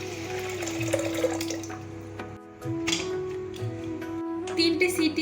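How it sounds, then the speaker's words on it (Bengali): Water pours steadily from a tap or vessel onto red lentils in a pot before pressure-cooking, a continuous close splashing stream with a brief lull midway. "দিচ্ছি পরিমাণ মতো জল।"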